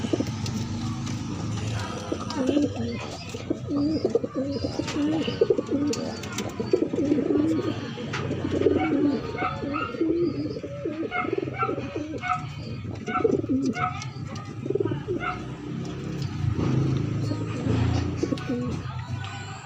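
Pigeons coo repeatedly in soft, rolling phrases over a busy background of other bird sounds, continuing through the whole stretch.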